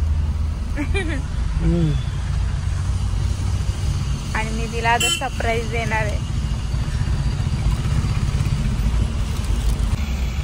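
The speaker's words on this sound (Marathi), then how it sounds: "तर हे ट्रॅफिक काय संपत नाहीये" Busy road traffic with cars and motorcycles rumbles continuously close by, engines droning and occasional horn-like tones rising above it, while a person speaks over the noise.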